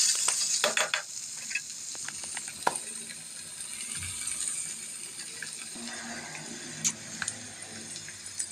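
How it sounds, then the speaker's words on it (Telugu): Spoon stirring okra curry in a pan after turmeric, chili, coriander powder and salt go in, soft scraping and scattered clinks over a light sizzle, close and fairly quiet with no talking. "పసుపు, కారం, ధనియా పౌడరు, సాల్ట్ వేసుకొని మంచిగా కలుపుకోవాలి"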